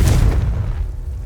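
A Confringo blasting spell from Hogwarts Legacy bursts into a single loud, close explosion, a sharp boom that rolls off into a fading rumble over about a second.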